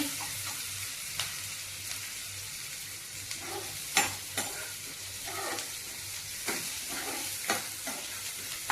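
Bottle gourd koftas frying in oil, a constant close sizzle with frequent clacking and scraping as they are turned in the pan, moderately loud, no speech.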